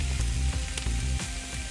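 Mushrooms sizzle and fry in a hot pan for a Marsala sauce, a steady close crackle with low bubbling and a few brief stirring clatters, no voices.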